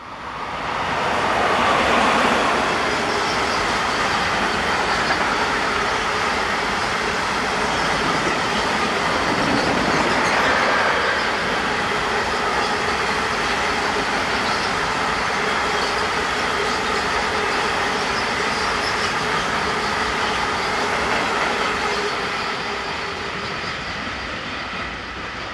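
Electric locomotive 151127 hauls a freight train of empty coal wagons past, a loud steady rumble and rattle of wagons rolling by close for the whole stretch, fading slightly at the end.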